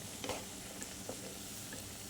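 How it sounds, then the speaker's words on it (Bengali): Coconut biscuits fry in oil over a low gas flame, giving a quiet, even sizzle with a few soft clicks. "এইভাবে আমি সব বিস্কুটগুলোকে ভেজে নেব।"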